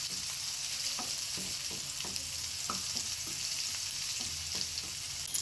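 Chopped onion and crushed garlic, with dried chillies, fry in oil in a pan while browning for spinach dal: a steady broadband sizzle with soft stirring clicks at irregular intervals, close and continuous, no voices.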